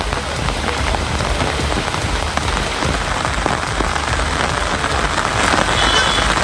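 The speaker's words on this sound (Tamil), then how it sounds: "திண்டுக்கல் மாவட்டம் கொடைக்கானலில் விட்டுவிட்டு மழை பெய்ததால் இதமான சூழல் நீடித்தது." Steady, dense rain falling on surfaces in Kodaikanal, a continuous close hiss of drops without pauses or voices.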